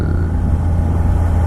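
A steady, low engine rumble from a stock 2017 Honda CB650F motorcycle holds throughout, idling or cruising with a deep, even drone and no voices.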